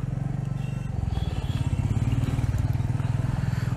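A Royal Enfield Meteor 350 motorcycle rides over a rough road, its single-cylinder engine giving a steady, close thumping pulse that swells slightly partway through, with faint rattles and road clatter mixed in.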